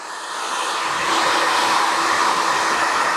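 A hair dryer blowing through hair to dry styling product during a barbershop haircut, a loud continuous close-up whoosh that swells slightly at the start and then holds steady, with no voices.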